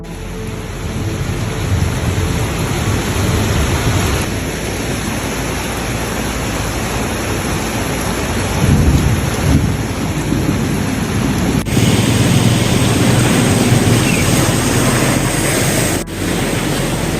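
Torrential rain pours during a thunderstorm in Ho Chi Minh City, a loud, dense roar of falling water with deep rolling thunder rumbling through it and a sharp crack near the end.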